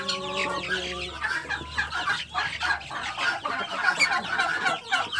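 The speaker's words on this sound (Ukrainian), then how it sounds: "Ось такі курчатка." Broody backyard hens and their small, growing chicks clucking and peeping close by, a busy, continuous chatter of overlapping calls with no talk.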